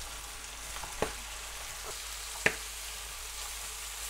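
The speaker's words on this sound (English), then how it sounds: "You hear that popping sound? That's the wood ear mushrooms." Wood ear mushrooms fry in a pan for homemade mala xiang guo. A steady low sizzle runs throughout, broken by two sharp, distinct pops about a second and a half apart, with no voices.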